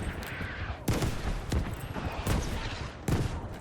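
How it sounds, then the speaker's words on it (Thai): British artillery fires in the video game Battlefield V, a series of four or five sharp, fairly faint blasts at irregular intervals over a background rumble. "หนักแน่นสมคำล่ำลือปืนใหญ่อังกฤษจริงๆว่ะ"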